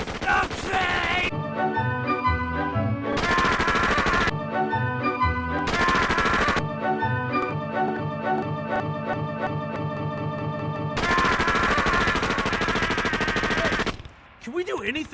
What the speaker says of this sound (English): Shoot the bad guy! Keep shooting the bad guys!